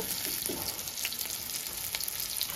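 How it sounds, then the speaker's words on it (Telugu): Ridge gourd frying in a pan gives a steady, even sizzle with a soft hiss that holds at one level throughout, close by and moderately quiet, with no voices. "చూద్దామండి ఇప్పుడు బీరకాయ ఫ్రై అయింది లేనిది"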